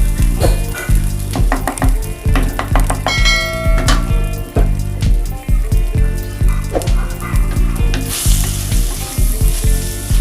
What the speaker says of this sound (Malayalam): അപ്പോൾ നമ്മുടെ ഉള്ളി നന്നായിട്ട് വഴണ്ടിട്ടുണ്ട്